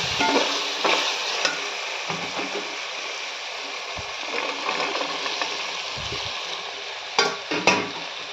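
Carrots and mint sauté in hot oil for a vegetable biryani, a steady close sizzle broken by repeated scraping stirs of a spoon against the pan.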